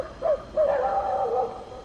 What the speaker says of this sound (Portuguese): os cachorros começaram a latir aqui